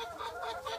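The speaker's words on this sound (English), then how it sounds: "So Bruce, how many eggs do you usually get from these hens?" Hens cluck inside an egg farm hen house, a faint run of about four short, rhythmic clucks close together with no speech over them.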